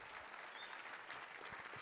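Applause from a conference audience at SAINTCON 2022 comes as a quiet but dense, steady patter of many hands clapping, heard from a distance throughout.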